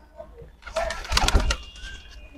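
Pet pigeons coo in a loft at close range, a short cluster of soft bird calls and rustling rising midway and lingering briefly.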